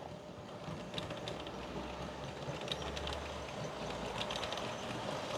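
An ESU model SNCF TGV train runs along layout track, a quiet continuous rumble and whir with faint rhythmic clicking of wheels over rail joints, heard at a modest distance.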